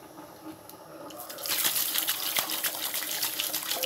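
Washing water gushes out of a can onto the ground, starting after a quiet moment and then pouring steadily with splashing, close and alone.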